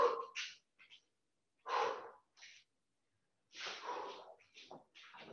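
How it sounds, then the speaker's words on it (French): Breathing during a pause in a children's karate class, as separate audible breaths and exhalations, three or four distinct bursts with silent gaps, close and fairly soft. "je relâche un petit peu, je respire"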